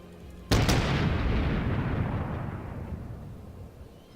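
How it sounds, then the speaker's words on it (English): Main guns of the Japanese heavy cruiser Chikuma firing in World of Warships, one sudden loud salvo blast with a brief crackling double report, then a long rumbling decay fading over several seconds. "now I'm firing too far forward, so I need to fire about here, I believe"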